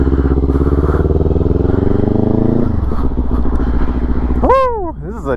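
A Kawasaki Z400 sport motorcycle engine runs close and loud with a steady throbbing drone. Its pitch shifts and drops partway through, and a voice gives a sweeping whoop near the end.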